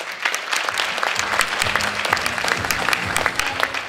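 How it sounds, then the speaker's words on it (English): An audience gives a round of applause at a fundraising gala, dense sustained clapping from a large room filling the whole stretch, close and steady with no speech over it. "can we have another round of applause for this wonderful occasion?"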